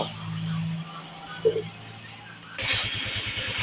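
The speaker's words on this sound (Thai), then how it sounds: "เดี๋ยวมาฟังเสียงกันนะครับว่าจะเข้าเกียร์แล้วจะดังอีกหรือเปล่า" A Honda Wave 125i motorcycle, just back from a clutch repair, idles and then clunks into gear. The engine note shifts abruptly partway through into a steady, pulsing mid-pitched run.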